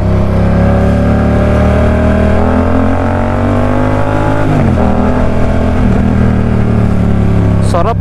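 A BMW F900R motorcycle engine drones loudly and continuously nearby, its pitch sliding up and down as it revs, while people talk over the sound.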